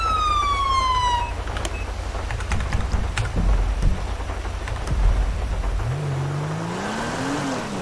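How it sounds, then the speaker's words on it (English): A police car siren in the FivePD video game: a falling wail at the start, then clicking key presses, then a rising siren tone swelling in near the end, loud and alone with no talk. "and your sirens will work."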